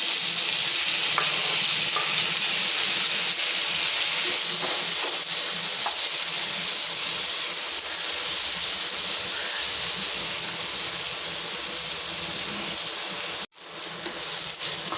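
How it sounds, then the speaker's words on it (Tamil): Onions and two finely chopped tomatoes fry and get stirred in a pan, a loud continuous sizzle close to the microphone with scraping stirs throughout, cut off briefly near the end. "இப்போ நான் வந்து தக்காளி ஒரு ரெண்டு தக்காளி பொடிசாக கட் பண்ணியிருக்கேன் போட்டுடலாம்"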